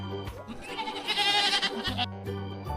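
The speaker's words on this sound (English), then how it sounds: "Goat." A goat bleats loudly and clearly in a single drawn-out, wavering call lasting a couple of seconds, heard alone with no talking.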